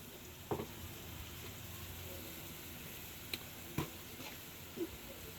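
Masala spices with half a tablespoon of coriander powder and dried chilli powder frying in a pan, a steady soft sizzle with a few brief stirring clicks and taps, fairly quiet and close, no talking.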